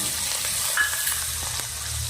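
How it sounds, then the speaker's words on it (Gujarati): Cumin seeds, asafoetida and green chillies fry in hot oil for a Gujarati bhindi sabzi, giving a steady close sizzle with faint stirring scrapes, continuous and without talk. "એક ચમચી જીરું નાખું છું એક ચમચી હિંગ નાખું છું પાંચથી સાત નંગ એટલા તીખા મરચાં નાખું છું"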